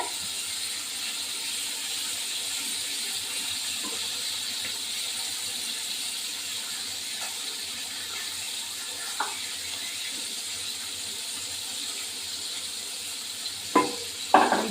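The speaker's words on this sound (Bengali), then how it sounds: "এই ট্যাংরা মাছ এখন একটু তেল কড়াইতে তেল দিয়ে এখন এটা ভাজতে বসিয়েছি" Tengra fish frying in oil in a wok, giving a steady, soft sizzle throughout with a few faint clicks and a brief utensil clatter near the end, no voices.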